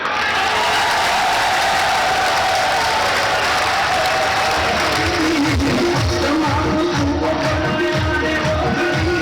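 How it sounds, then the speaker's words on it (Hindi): Loud, dense applause from a large crowd at a political youth convention, sustained throughout, with a low hum of voices and chanting rising beneath it in the later seconds. "चलो भी एक दफा तालियां बजा ही लो।"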